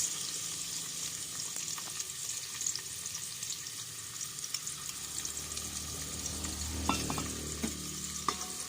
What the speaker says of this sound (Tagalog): At atin munang igigisa sa sibuyas, bawang, at kamatis, mga kakusin. Lagay na natin ang kamatis.